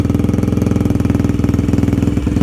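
A 4-stroke dirt bike idling with the choke on, a close, loud, deep rhythmic thump of the engine firing in an even pulse throughout.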